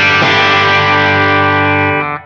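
A Roamer 7-string electric guitar, Burg spec, played on its back pickup through a clean Dumble rig rings out as one sustained, thick chord for about two seconds before cutting off, loud and alone.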